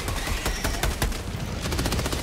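A stratagem barrage in Helldivers 2 pounds down as a dense, continuous roll of explosive shell impacts and rapid gunfire-like blasts, loud and close for the whole stretch with no voices over it.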